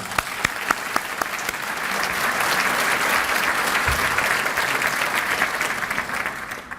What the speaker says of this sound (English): I'd ask you now to give a round of applause to my staff that worked so hard